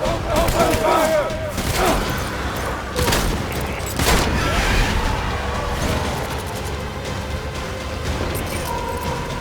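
Gunfire and explosive blasts during combat in the video game Death Stranding, loud chaotic volleys with booms and crashing impacts mixed with shouted voices and game sounds.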